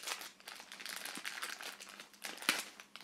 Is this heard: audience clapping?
no